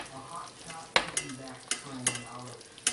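Split pea soup, liquid and peas together, pushed and stirred through a metal chinois strainer, giving soft wet scraping and sloshing with several sharper clinks of utensil against metal at a steady working pace, close and fairly quiet.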